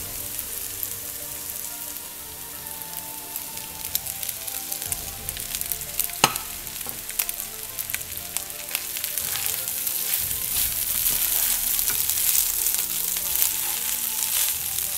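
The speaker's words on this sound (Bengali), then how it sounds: "এখন দিয়ে দিচ্ছি ব্রাউন রাইসটা।" Brown rice fries in a hot pan with a steady crackling sizzle and occasional stirring scrapes, close and continuous, building slightly louder toward the end.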